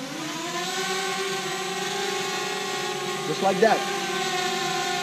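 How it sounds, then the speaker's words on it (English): A DJI Spark drone's propellers spin up and hold a steady, close buzzing whine as it launches from a hand, with someone speaking briefly over it. "So you double tap on the back and the drone power ups, the propeller, then it will launch."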